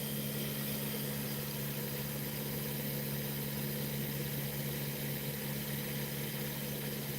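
A small pulse motor generator with a reed switch and trifilar coils, run at 31 volts, gives a steady, continuous low electrical hum with a faint buzzing whine, unchanging and alone.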